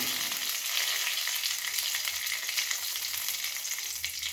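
Panch phoron, a bay leaf and a dry chilli sizzling in hot oil in a pan, a steady bright crackling hiss with faint pops, close and continuous.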